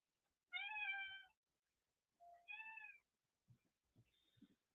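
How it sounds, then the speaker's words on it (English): A house cat gives two clear, drawn-out meows indoors at moderate distance, followed by a few soft thumps and footfalls in a quiet room. "My cat just entered."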